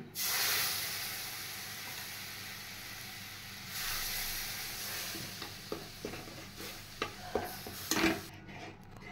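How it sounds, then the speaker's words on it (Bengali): A spoon stirs flour and butter with milk in a pan, steady scraping over a faint simmering hiss, with a few sharper knocks toward the end; no one speaks. "ময়দাটা যতক্ষণ পর্যন্ত না গলে যায় ততক্ষণ পর্যন্ত এটা দুধ দিয়ে নাড়তে থাকতে হবে"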